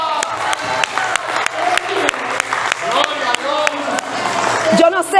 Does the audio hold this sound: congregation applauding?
yes